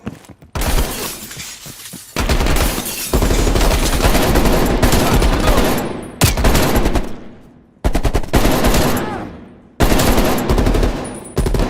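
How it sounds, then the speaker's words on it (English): Loud gunfire from Call of Duty Black Ops Cold War: repeated bursts of rapid automatic fire mixed with shattering glass, broken by short silent gaps, with no talking. "They're shooting at us!"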